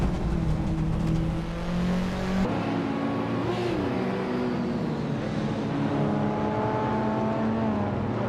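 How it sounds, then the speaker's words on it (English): A 1984 Renault 5 Turbo race car in a video game holds a steady, loud engine drone throughout, its pitch wavering up and down with gear changes. Other cars are faintly audible in the mix, and nobody speaks. "Maya is driving a 1984 Renault 5 Turbo"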